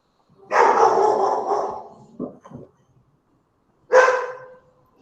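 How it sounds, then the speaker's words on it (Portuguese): A dog barks loudly and close, a long drawn-out bark, two short yips, then another single bark after a pause. "peço desculpa pelos latidos"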